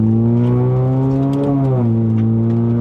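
A 1.5L Honda City Hatchback GN5 engine revs steadily upward, its tone rising before dropping sharply as the gear changes, then settling into a lower hum, heard from inside the car with no talk.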